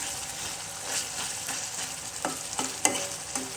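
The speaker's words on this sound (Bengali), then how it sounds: "একটু হালকা অল্প অল্প একটু মশলা দিয়ে পুরোটা কষাই নিচ্ছি" Meat and potatoes stir-fried with a little spice in a pan, a soft steady sizzle with several sharp scraping stir strokes near the end, close and moderately quiet.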